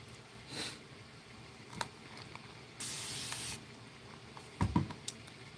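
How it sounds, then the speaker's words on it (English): A spray bottle mists a plate of gouache paint in several short hissing bursts, one longer puff in the middle, each soft and close against quiet room tone. "I'm just going to spray my plate and activate it."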